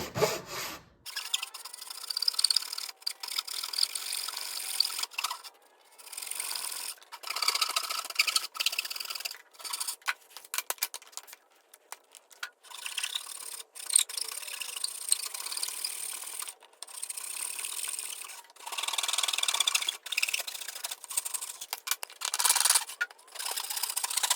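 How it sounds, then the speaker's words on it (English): A hand saw cuts a cigar box lid along a guide, slow rhythmic rasping strokes up close, with short pauses between bursts. "I'm just gonna use the guide here, guide my saw to where it needs to cut."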